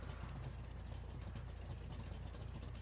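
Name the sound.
Dundreary Regina 6x6 engine idling, from a video game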